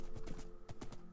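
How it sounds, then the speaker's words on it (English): Horse hooves clopping in Minecraft while riding, a quick uneven run of hollow clip-clop steps with fairly close, moderate loudness and no talking. "So, let's ride with the horse."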